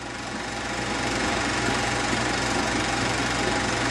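An Allis-Chalmers WD-45 farm tractor engine runs steadily, a loud, continuous mechanical drone with a low knocking pulse that holds even throughout, with no voices.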